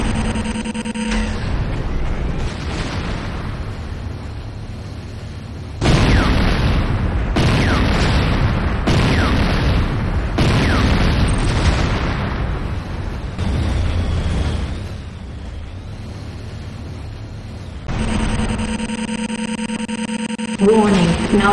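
A Nod Tiberium Refinery blows apart in Command & Conquer Renegade: a series of loud, heavy booms and rumbling blasts in bursts, with an in-game announcer voice speaking.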